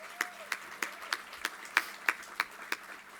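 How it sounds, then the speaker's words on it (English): Audience at a university Veterans Day celebration claps for veterans, military and family members, a sparse but steady run of about ten distinct hand claps, evenly spaced and moderately close. "So let's give all of those individuals a round of applause."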